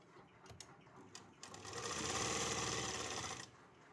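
A sewing machine stitches the lining into a salwar, a few short bursts giving way to a steady, close whirring run that lasts about two seconds before stopping.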